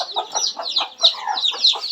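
A hen clucking repeatedly in a quick, even rhythm, close and clear, with no talk over it.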